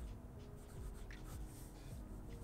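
A fountain pen with an 18 karat gold medium nib writing on paper, a quiet continuous scratchy rubbing with slight strokes, faint and close, with no voices.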